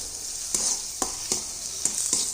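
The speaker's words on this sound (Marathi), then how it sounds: "तर इथे बघू शकता आपलं टोमॅटो पण छान असं फ्राय झालेलं आहे" Chopped tomato with white sesame seeds frying in a pan for a wheat-flour breakfast dish, a steady close sizzle broken by about five sharp scraping stirs of a spatula.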